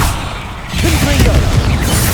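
A Confringo fire blast spell in Hogwarts Legacy lands as a loud booming burst after a brief lull, followed by a sustained roaring, crackling wash of explosive noise.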